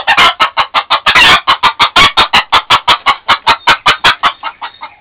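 A hen kept from laying her egg clucks rapidly and insistently, a long run of sharp, regular squawks close by, trailing off softer at the end.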